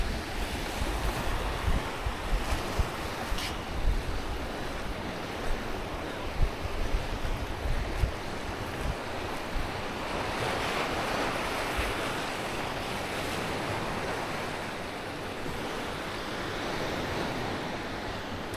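Sea waves wash onto a beach at La Caleta, Tenerife, a continuous rolling surf roar with gusts of wind buffeting the microphone, moderately loud and with no voices throughout.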